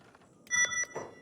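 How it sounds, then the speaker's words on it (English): A short electronic beep from the video game Kenshi, a bright harmonic tone lasting under half a second, fairly loud against quiet background sounds, with a few soft knocks around it. "That beep seemed way louder than last time."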